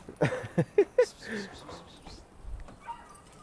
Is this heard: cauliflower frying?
no